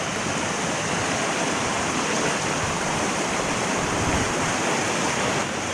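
A rocky creek in Tasmania rushes steadily nearby, with water tumbling over big stones in a dense, unbroken roar and no voices over it.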